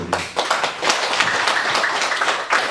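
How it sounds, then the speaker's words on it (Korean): A church congregation claps together during a Sunday service, a dense, continuous patter of many hands at close range that keeps going without a break. "박수로 우리가 하나님께 영광을 돌리겠습니다."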